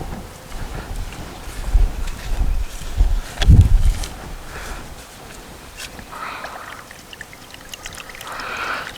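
Sugar water poured out to feed a large swarm of bees outdoors, a few soft splashing bursts with a louder gush near the middle, under steady wind noise and no talk.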